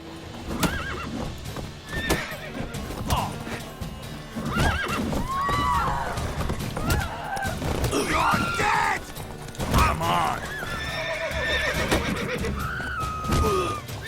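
Horses neigh and whinny repeatedly amid clopping hooves and clattering effects in The Witcher 3 video game, with shouting voices breaking in now and then.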